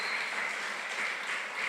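A church congregation claps together in a sustained, even burst of applause, moderately distant and without voices over it.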